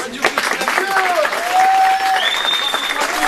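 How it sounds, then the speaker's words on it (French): Audience applause for competitors at a live reaction stream of a match, broadband clapping running through the clip under excited commentary, with tonal sweeps from music or effects layered on top. "On peut les applaudir, on peut les applaudir."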